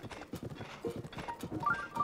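Horse hooves clip-clopping in a steady galloping rhythm while riding through a snowy tundra in the Zelda: Breath of the Wild video game, close and fairly loud, with a few brief high chiming tones near the end and faint speech underneath.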